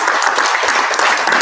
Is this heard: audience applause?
yes